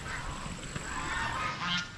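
A duck gives a few loud, honking quacks up close, kept in a fenced pen, with no talk over the calls.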